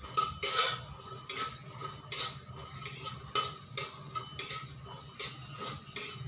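Spices lightly fry in a pan on a home kitchen stove, with rhythmic scrapes and clinks of a spoon against the pan recurring about every half second over a faint sizzle.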